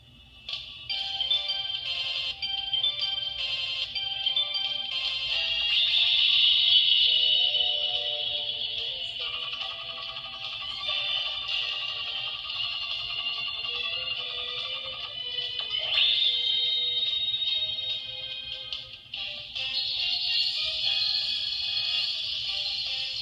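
A Sailor Moon Proplica Spiral Heart Moon Rod toy plays its short-press sound: a bright, chiming electronic jingle with sparkly tones, continuous and fairly loud over a faint low hum, lasting over twenty seconds.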